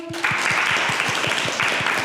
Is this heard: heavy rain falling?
no